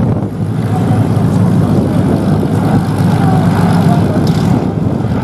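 Propeller engines of the B-17 bomber Sally B at a Flying Legends air show, a steady loud drone filling the whole clip with no breaks.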